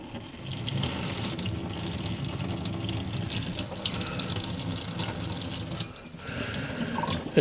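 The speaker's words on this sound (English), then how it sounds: "there's no cleaning products required, just a sponge and just some running water" Water running steadily from a tap while white engraved tiles are wiped with a sponge, a continuous close splashing rush with slight variations and no talking.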